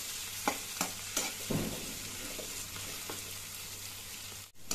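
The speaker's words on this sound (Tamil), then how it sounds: "இதுவும் நல்லா கொஞ்ச நேரம் ஒரு 5 நிமிஷத்துக்கு நல்லா வதங்கும்" Green chilies sautéing in a pan for chicken gravy, a soft continuous sizzle with a few stirring scrapes and taps, close and quiet with no voices.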